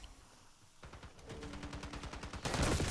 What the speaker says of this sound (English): Somebody firing, coming around.